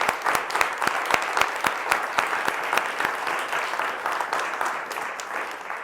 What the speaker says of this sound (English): let's just give everybody that spoke today another round of applause